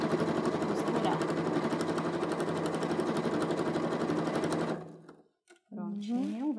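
Sewing machine stitching fabric for an insulated tote bag, a steady rapid whirring run that stops near the end, followed by a person speaking.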